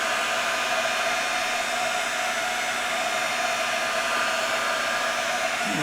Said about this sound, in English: You're just going to turn on your heat gun and you're going to hold it there